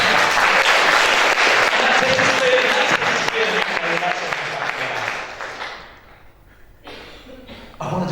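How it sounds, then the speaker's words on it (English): A lecture-hall audience at an Oxford Think Week talk breaks into loud, dense applause, near and sustained for about five seconds before tapering off, with a few lingering claps and a brief renewed burst near the end. "it's best if you just give them a round of applause, right?"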